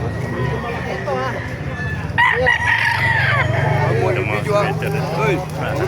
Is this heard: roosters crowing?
yes